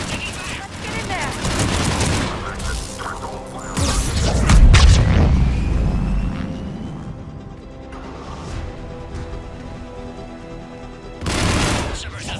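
Heavy gunfire in a Mass Effect 3 battle at a Sur'Kesh checkpoint, loud bursts and a deep boom mixed with radio-style voices and game effects, surging midway and again near the end.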